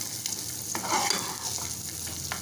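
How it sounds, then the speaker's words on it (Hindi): Peanuts, raisins and almonds frying in a little ghee, a close, steady sizzle with a soft, brief stirring scrape partway through. "इसे थोड़े से घी में फ्राई कर लें आप"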